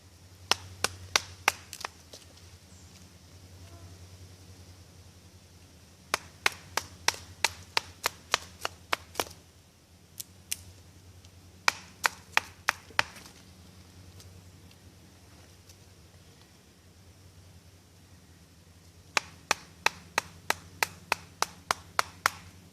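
Condor Bushlore knife batoned through wood outdoors, sharp hollow knocks struck in quick rhythmic bursts of several blows with pauses between, crisp and fairly close.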